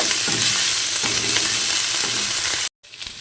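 Chopped tomato sautéing with ginger and green chilli in a pan, a loud close sizzle with spatula stirs scraping through it, cut off abruptly by a brief gap before it resumes.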